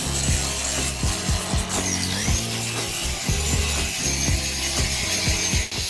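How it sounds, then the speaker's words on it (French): An angle grinder sands rusty metal on a Jeep, giving a continuous harsh, rasping whir with rhythmic scraping pulses, loud and close throughout. "je prends ma meuleuse pour poncer tout le métal rouillé ici, des deux côtés"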